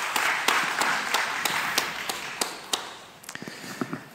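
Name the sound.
audience clapping in a vote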